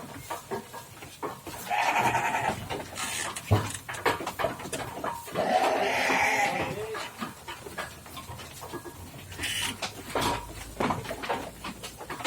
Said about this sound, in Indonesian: ini proses pemberian pakan untuk kambing-kambing